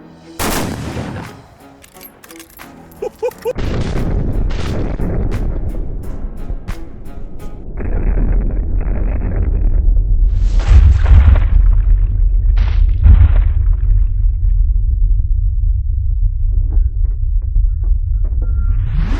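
Several sharp, loud rifle shots from a 30-30 fired into a ballistic dummy ring out close by, followed by a long low rumbling hum that continues to the end.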